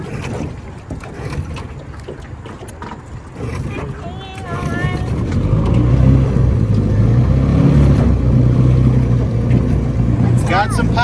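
A small outboard motor on an aluminum boat sputters, then catches and runs with a steady, loud drone as voices talk over it outdoors amid wind noise.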